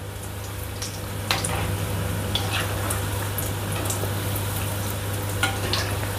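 Breadcrumb-coated fish cutlets made with murrel fish and boiled potato fry in oil in a kadhai, giving a dense, steady sizzle with scattered crackles and a low hum underneath, heard close with no talking.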